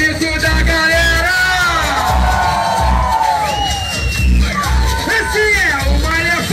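A wedding party crowd shouts, whoops and cheers loudly at a close distance, with yells rising and falling over a thumping funk beat and voices talking over the noise.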